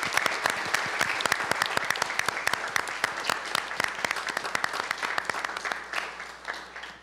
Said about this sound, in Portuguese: Eu gostaria de agradecer a todos por estarem aqui com uma salva de palmas.